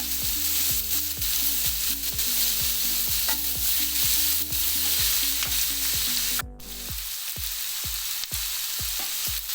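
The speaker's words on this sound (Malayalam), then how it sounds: "ഇനി ഇത് നന്നായിട്ടൊന്ന് വഴണ്ട് വരണം" Green chillies with rock salt and turmeric sautéing in hot oil for chicken roast, a steady loud sizzle with rhythmic stirring scrapes throughout, a brief sharp clatter near the end, then quieter frying with no talking.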